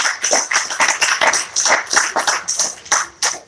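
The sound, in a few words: audience applause for Winnie Mandela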